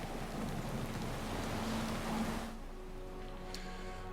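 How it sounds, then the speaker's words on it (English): Relentless storm over a city in Pillars of Eternity 2, with a loud rush of rain and low thunder rumble that cut off abruptly halfway, leaving quieter ambient tones. "A furious storm obscures the sprawling city below"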